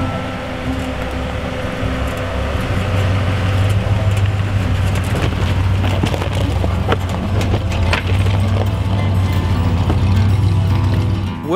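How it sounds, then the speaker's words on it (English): A 1953 Willys Jeep CJ-3B pulling a 1947 Ken-Skill Model 10 teardrop trailer drives past with a loud, steady engine drone, rattling mechanical clatter and a deep low rumble running throughout. "today we've been driving a 1953 CJ-3B."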